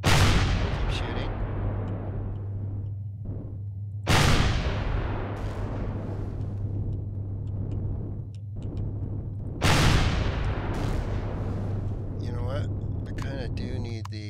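Gunfire in Empyrion - Galactic Survival aimed at a creature: a continuous rattling stream of shots with a steady droning tone underneath, broken by three heavy bursts and closing in a cluster of sharp metallic hits, while someone talks over it.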